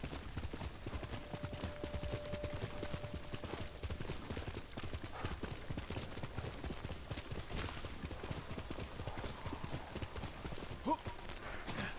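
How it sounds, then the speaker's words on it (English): Horse hooves clip-clop steadily in the Ghost of Tsushima video game, a continuous rapid beat over a rushing noisy background, with voices talking across parts of the stretch. "Oh, I'm thinking the horse could gallop."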